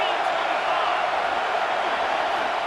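Stadium crowd roaring at a Michigan versus Ohio State college football game, a steady, dense wall of noise with no breaks, loud and continuous throughout.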